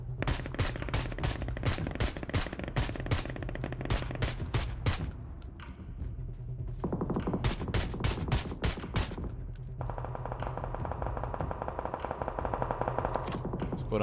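Automatic gunfire from the video game PUBG comes in rapid sharp bursts of sprayed shots, loud and close, with brief pauses between volleys.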